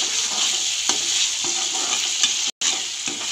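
Masala for chicken kofta curry frying and being stirred in oil, a steady close sizzle with repeated scraping strokes of the spoon against the pan, briefly cut off by a short gap.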